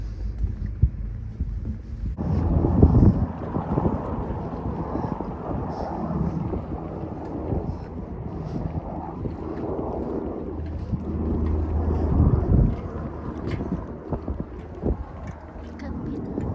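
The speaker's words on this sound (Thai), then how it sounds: "เครื่องบิน" An aircraft passes over a beach in Kanagawa, Japan, its low, steady rumble swelling in after a quiet start and lasting throughout, mixed with wind buffeting the microphone and someone talking.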